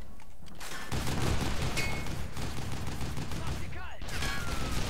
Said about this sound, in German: Schieß auf die Autos, Andy, dass sie alle explodieren.